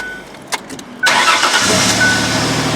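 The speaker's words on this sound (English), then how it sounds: "now I think we're going to start it up, and this thing's going to run" A few clicks, then the swapped-in 3.9L V6 engine of a 2005 Ford Freestar minivan cranks briefly and catches, settling into a steady close idle with a slight exhaust leak.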